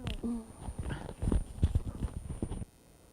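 A pair of harnessed horses walk in a driving exercise, their hooves clip-clopping in an irregular rhythm close by while a person talks over them, then the sound drops away near the end.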